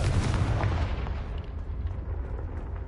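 Confringo blasting spell explosion in Hogwarts Legacy, a loud, rumbling burst that fills the whole moment and slowly thins out, with no voices.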